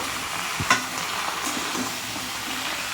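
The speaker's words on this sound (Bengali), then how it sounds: "বরবটি বেগুন মূলো শিম আর কুমড়ো সব সবজিগুলোকে দিয়ে আমি তিন থেকে চার মিনিট ধরে ভেজে নেব" Yardlong beans, eggplant, radish, flat beans and pumpkin frying together in a pan for a Bengali vegetable labra, a steady close sizzle with a brief clink of stirring near the start and no talking.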